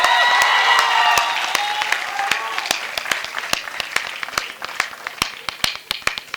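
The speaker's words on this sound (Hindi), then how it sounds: "ये ताली बजाने की बात नहीं थी।" Audience applause at a Hindi hasya kavi sammelan comedy poetry show, loud and dense at first, then thinning into scattered individual claps that keep going to the end.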